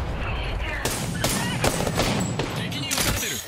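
Enemy gunfire in the Apex Legends video game crackles in dense, overlapping bursts, a loud close fusillade of rapid shots that rattles on without pause for a few seconds.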